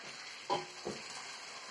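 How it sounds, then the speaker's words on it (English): Tomato paste stir-fries in a pot on reduced gas heat, giving a soft, steady hiss with two short scraping stirs close together in the first second. "You're going to make sure you stir fry this tomato paste for like some minutes."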